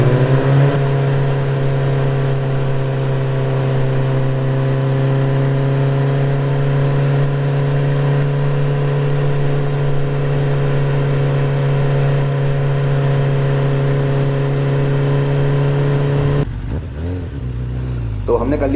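A steady, droning engine hum and wind rush from a Bajaj Avenger 220 motorcycle cruising fast on a highway while racing an Activa scooter, loud and constant with someone talking over it, ending in a sudden cut.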